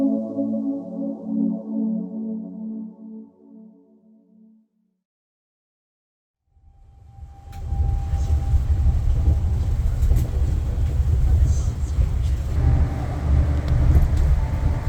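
A bus ride on route 1750A from Yilan Bus Station in cold, foggy, rainy weather. A brief tonal passage fades to silence, then a loud, steady low engine and road rumble fills the cabin without speech.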